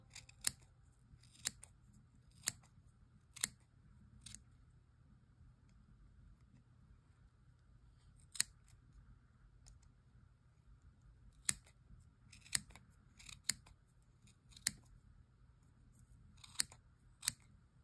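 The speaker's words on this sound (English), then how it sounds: "This is when sharp scissors are very, very helpful." Sharp scissor snips through yarn come in scattered bursts, crisp and close, separated by quiet pauses with a low background hum.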